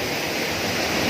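Waterfall heard from nearby, a dense, steady rushing roar of falling water filling the whole short moment without a break.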